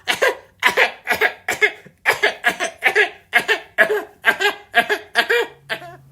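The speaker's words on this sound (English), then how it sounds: "That cough doesn't sound good." A rapid, rhythmic string of about a dozen harsh coughs, close and loud, with brief gaps between each burst.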